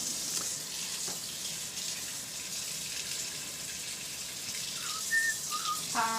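Warm tap water runs steadily into a cup in a home kitchen during bread baking, a continuous close hiss with a few brief higher tones near the end.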